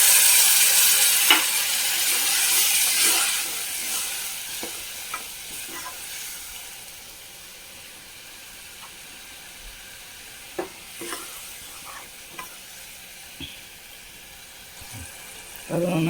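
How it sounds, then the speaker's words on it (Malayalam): A chilli soya mixture bubbles in a pan after hot water is added, with a steady sizzling simmer that is louder at first, then quieter, punctuated by occasional light clinks and taps. "അത് നന്നായി തിളച്ചിട്ടുണ്ട്."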